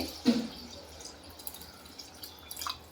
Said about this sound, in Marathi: अजून यात मी पाणी टाकते.